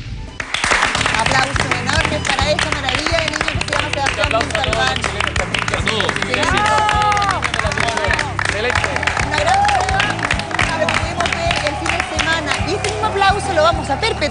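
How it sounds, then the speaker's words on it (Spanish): A television studio audience applauds and cheers loudly and steadily throughout, with crowd chatter and music underneath and a voice speaking over parts of it. "Un gran aplauso para esta familia por su esfuerzo."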